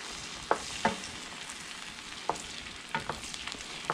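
Cobia fillets sizzle in butter in a hot pan, a steady frying hiss broken by several sharp clicks and taps of a utensil moving the fish.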